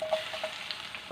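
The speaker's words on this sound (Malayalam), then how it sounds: "വറുത്ത് കോരുവാണേ." Peanuts fry in hot oil for a jackfruit mixture snack, giving a soft, brief sizzle that swells louder at the very end.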